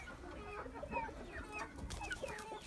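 Several hens and pullets cluck and call in a coop as winter approaches, with overlapping chirpy vocalizations and a faint squawk, moderately distant and quiet.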